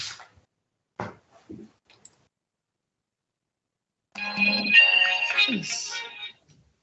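A phone ringtone goes off during a formal inquest hearing, a bright melodic tune lasting about two seconds after a few scattered clicks and handling noises.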